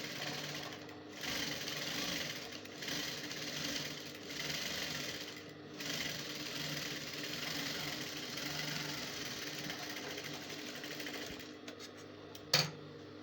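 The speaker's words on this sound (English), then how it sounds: "I'm going to make a seam to close." A sewing machine stitches a seam to close a shirt collar, running steadily and close for most of the stretch with brief slowdowns, then stopping near the end with a single sharp click.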